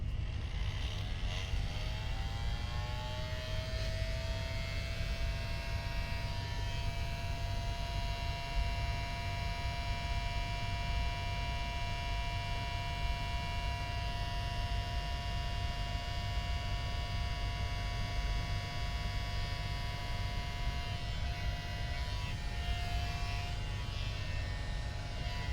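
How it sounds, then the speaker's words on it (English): A hair dryer whirs steadily and loudly close by, its motor pitch rising as it starts and then holding a constant hum throughout. "I'm gonna grab my dryer. I'm gonna dry my trees a little bit"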